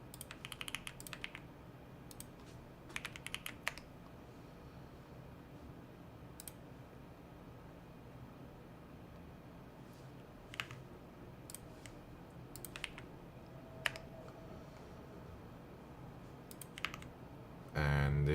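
Rapid computer keyboard typing during an online typing race, steady clicking keystrokes with a few louder bursts, fairly faint and close, with occasional muffled talk.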